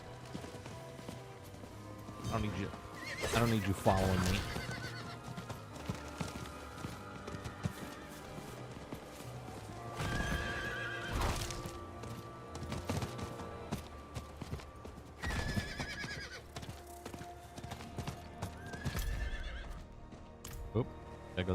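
Horse hooves clip-clop and a horse whinnies in Diablo 4, with game music and effects behind them and someone speaking briefly over the riding.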